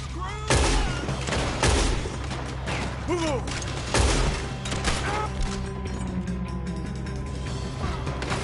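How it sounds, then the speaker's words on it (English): Video game shootout gunfire: several sharp, loud gunshot bursts at irregular intervals, mixed with mechanical clicks and metallic clatter, with brief voice sounds between shots. "Looks like we're shooting our way out of here, fellers."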